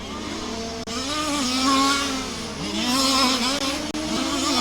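Cars race at Warm Springs Raceway in an STC B Main event, engines revving and shifting loudly as they pass close, with overlapping whines rising and falling and no talk.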